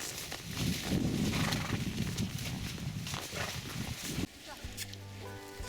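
Horses on a ride near Starosillia castle, entering a sunflower field, with a busy mix of hoof clatter and movement under almost continuous talk, then a sudden drop and a steadier hum near the end.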